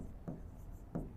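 Two short, faint pen strokes on paper, spaced about two-thirds of a second apart, made while working an algebra problem by hand in a quiet room.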